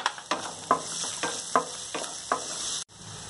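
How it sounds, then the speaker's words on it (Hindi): Curry leaves crackle and sizzle in hot oil in a pan for a batata vada vegetable filling, a steady frying hiss broken by several sharp spattering pops and spoon stirs, close and fairly loud. "इसके साथ ही मैं थोड़ा सा कड़ी पत्ता डाल दूंगी और उसे भी भून लूंगी"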